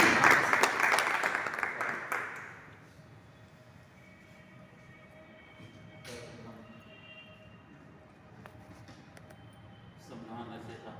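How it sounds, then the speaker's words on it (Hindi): Audience applause at a journalists' association Constitution Day event held at a lodge, loud dense clapping for the first two seconds that quickly fades into quiet room noise, with a brief patter of claps returning near the end. "जोरदार तालियों के साथ"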